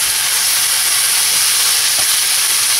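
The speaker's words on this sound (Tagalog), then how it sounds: "So, haluin lang natin itong mabuti." Chicken sisig sizzles loudly in a hot pan while being stirred, a constant bright frying hiss with a soft scrape of the spoon partway through.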